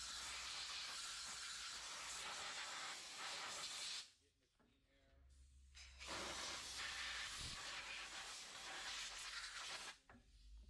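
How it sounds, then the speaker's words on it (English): Strong, continuous blasts of compressed air from an air chuck blowing out the cracks and crevices of a car wheel and wheel arch, two long bursts separated by a quiet pause. "I'm going to use the air chuck and the air compressor to blow out any cracks and crevices."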